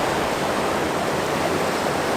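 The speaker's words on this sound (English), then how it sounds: "Plenty of water flowing." A stream flows at a national park campsite, giving a steady, broadband rush of water that is fairly close and constant throughout, with no talking.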